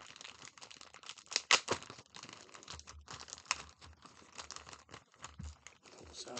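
A HeroClix Colossal Kong package of terrain and cards is unboxed, with close crinkling plastic, tearing and rustling in irregular bursts, some sharp crackles standing out against a quiet room.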